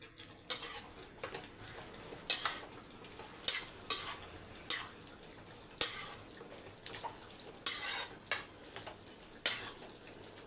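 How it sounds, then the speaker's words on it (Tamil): Cooked rice being stirred and mixed with vatha kuzhambu tamarind curry in a pot, a steady run of soft, wet scraping strokes close up, about a dozen rhythmic pulses with no talking. "நல்லா மிக்ஸ் பண்ணிக்கலாம்."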